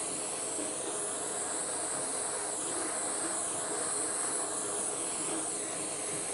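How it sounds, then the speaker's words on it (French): A kitchen blowtorch browns the meringue coating on a frozen ice-cream log, a baked Alaska-style dessert, giving a steady, close roaring hiss that runs unbroken from start to finish with no voices. "à l'aide d'un chalumeau, je vais venir"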